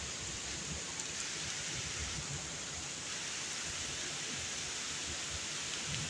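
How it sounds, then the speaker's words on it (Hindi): Heavy rain pours down steadily and loudly, a dense unbroken hiss that stays constant throughout, with no voices over it. "जितनी तेज़ बारिश हो रही है।"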